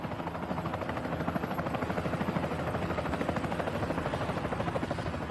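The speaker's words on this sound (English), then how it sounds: "The small helicopter can barely lift her" A small helicopter struggles to lift off with heavy cargo, its rotor thumping in a fast steady beat over a loud, continuous engine whine that stays close and even throughout with no voices.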